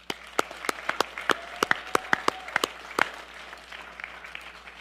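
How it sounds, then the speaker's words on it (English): An audience at a video game awards ceremony gives a short round of applause, a sparse scatter of distinct hand claps that is loud at first and tapers off over a few seconds. "So for the IAHSEA, applause."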